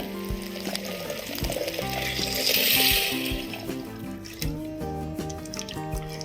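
Hot water pours steadily into a pot of dal for several seconds, a close, continuous splashing stream that swells in the middle, with some clinking underneath.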